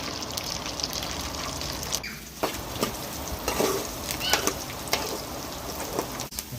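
Onions fry in a pan with curry leaves, a steady crackling sizzle with scattered sharper pops and stirring scrapes, close and fairly loud throughout.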